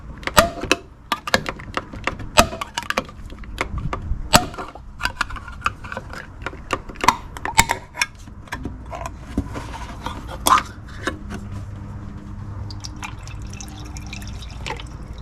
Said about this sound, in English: Adding 1 can of MOA.